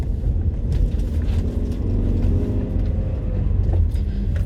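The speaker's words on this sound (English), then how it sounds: "I'm waiting to turn this because there's so many cars." Busy road traffic beside garden centre car parks, heard from a car waiting to turn, with a continuous low engine and tyre rumble as vehicles pass close by, steady and fairly loud throughout.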